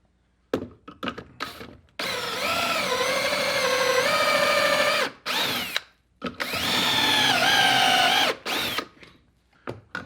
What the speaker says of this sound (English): You can see it drilled nice angle holes.